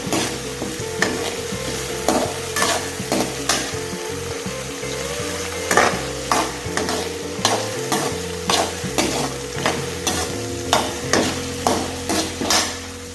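Onions sautéing in a pan with fenugreek seeds and curry leaves for a chickpea kurma, a steady close sizzle broken by regular rhythmic scrapes and knocks of a spoon stirring against the pan, with no voices.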